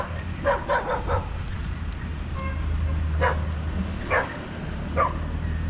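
Several short dog barks sound at a distance outdoors during a hunting trip, spaced irregularly over a low steady rumble, with no talk.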